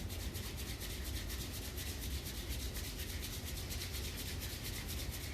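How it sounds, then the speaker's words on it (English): Palms rub together in steady, close, continuous friction, an even dry swishing hiss that holds at constant level for several seconds in a quiet room during a gentle yoga session. "rub your palms together and create a little fire in your palms."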